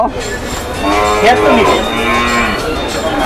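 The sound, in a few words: cows mooing at Gabtoli cattle market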